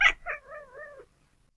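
A house cat at a window chirps and tweedles at a bird outside, a short sharp chirp and then a warbling, wavering trill that fades out, close and alone.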